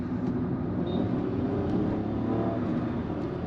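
A Hyundai i20 N-Line engine hums and revs in a steady, close drone as it rev matches, rising slightly in pitch without any talking.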